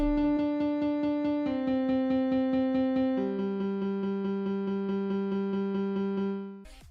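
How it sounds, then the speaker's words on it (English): Rolling saw bass synth preset played in FL Studio in a future bass style, a bright buzzy tone pulsing in fast repeated notes that step down in pitch across a few held phrases before cutting off. "which is a saw kind of bass, and with this pattern it's a rolling kind of bass"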